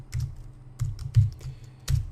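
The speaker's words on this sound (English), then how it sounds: "Maybe I should just type all of these first." Computer keyboard typing in short clustered bursts of clicks, fairly close, over a low steady hum, with no voices.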